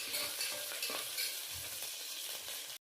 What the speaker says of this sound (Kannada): ಹಸಿಮೆಣಸಿನ್ಕಾಯಿ ಹಾಕೋತಾ ಇದ್ದೀನಿ. ಎರಡನ್ನೂ ಚೆನ್ನಾಗಿ ಹುರ್ಕೊಳ್ಳೋಣ.